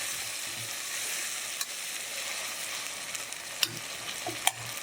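Onions and tomatoes sautéing with salt in a pan for mutton biryani, a steady low sizzle with a few sharp scraping clicks of the spoon against the pan.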